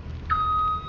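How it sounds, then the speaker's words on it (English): A fuel alarm on a Weiler B457 paver sounds as a single steady electronic beep lasting about half a second over low machine rumble. "See, that's the fuel alarm."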